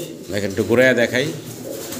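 A pair of red checker Dragon pigeons cooing up close, a low throaty warbling coo, while someone talks over it.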